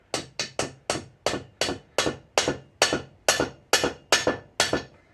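A hammer taps a universal joint on the front drive shaft of a 2000 Suburban: about fourteen sharp metallic strikes in a steady, fairly quick rhythm, close and distinct, each ringing briefly.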